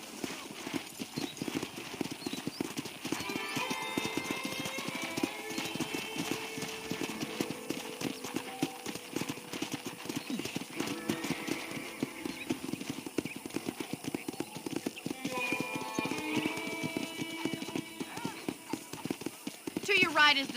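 Steady rhythmic hoofbeats of a galloping horse in the video game Red Dead Redemption run throughout, close and continuous, with a person talking over them.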